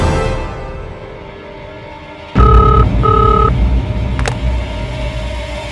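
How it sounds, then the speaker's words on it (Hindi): A few short electronic dialing tones beep in quick succession over a steady low engine-like hum, followed by a brief higher tone. "घर पे करता हूँ फोन।"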